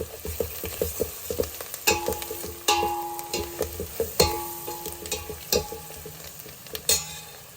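A spoon stirs turmeric into a pot of tomato and drumstick rasam as it cooks, giving close, irregular metal scrapes and clinks over a soft sizzle, with no voices.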